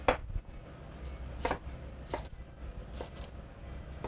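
Red onions being coarsely chopped with a knife: about half a dozen sharp, close strikes at uneven intervals, separated by quiet pauses, with no talking.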